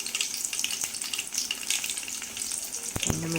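Garlic hits hot oil already crackling with mustard seeds, a dense, close hiss of frying that carries on steadily, with a few sharper pops near the end, while tempering a Nellore-style pappulusu.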